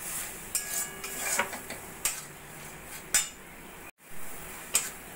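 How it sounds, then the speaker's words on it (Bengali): A metal spoon scrapes and taps against a pan as bottle gourd leaf paste is stirred until dry, a string of irregular clinks and scrapes with no voices. "এইভাবে নাড়া দিতে দিতে যতক্ষণ না জলটা একদম শুকনো শুকনো হয়ে যাচ্ছে"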